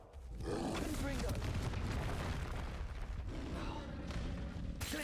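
Explosive Confringo spell bursts in Hogwarts Legacy on Nintendo Switch, a loud roaring boom that fills the clip over dense game noise, with a voice speaking briefly.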